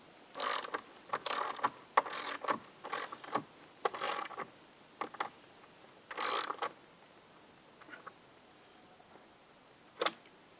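A ratchet wrench drives lag bolts into a wooden ledger board in bursts of rapid clicking, close and fairly loud, with pauses between runs and no talk.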